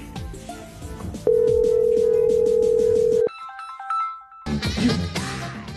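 A phone call being placed to a son, with a ringback tone on the line: a steady sustained beep for about two seconds, then a short burst of electronic tones and a bright ringtone-like passage, fairly loud and alone.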